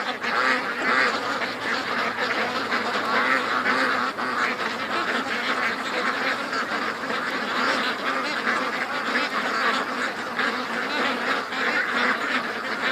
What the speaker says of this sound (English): Oh, bubble-eyed duck is in the pen,